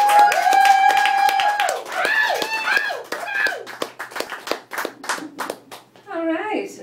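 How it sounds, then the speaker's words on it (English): Comedy club audience welcoming a stand-up comic, with whoops and cheering voices up front, then scattered hand claps tapering into separate claps before a voice speaks. "give a big round of applause to Miss Alexandra Karova"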